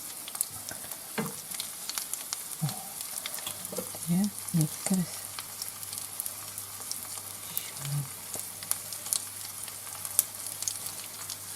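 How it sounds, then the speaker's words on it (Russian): Steady sizzling of cutlets frying in a pan, with scattered crackles and brief bits of speech over it. "Кладем котлеты и обжариваем с двух сторон по 4-5 минут с каждой стороны."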